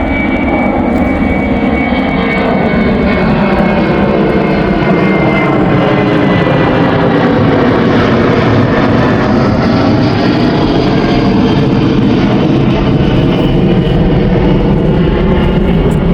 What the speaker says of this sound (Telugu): ఇంకో ఫ్లైట్.